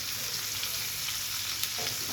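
Large freshwater prawns frying in soybean oil, a steady dense sizzle and crackle throughout, close and fairly loud, with faint stirring scrapes and no voices.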